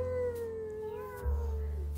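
A person imitates a kitten's meow with a soft, high, drawn-out vocal mew, fairly quiet and close.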